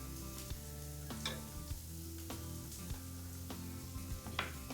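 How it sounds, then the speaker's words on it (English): Cream being stirred in a pan over low heat, producing a soft steady sizzle with scattered light scraping clicks from the utensil, fairly quiet and with no voices. "And just give it a little stir."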